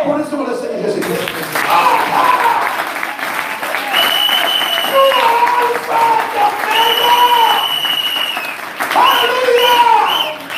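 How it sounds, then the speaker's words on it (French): A church congregation at a gospel tabernacle service in Dakar applauds steadily and loudly, with cheering voices and sung or shouted tones rising over the dense clapping throughout. "Applaudissez-moi le Seigneur Jésus-Christ."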